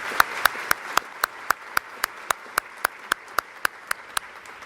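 Evenly spaced hand claps sound at an awards induction ceremony, a steady, quiet beat of single sharp claps with a faint room murmur beneath.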